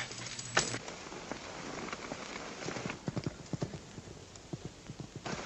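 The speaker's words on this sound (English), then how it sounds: "That's my horse, Art." Horse hooves clip-clop in a steady rhythm, growing sharper and closer over a constant rain-like hiss.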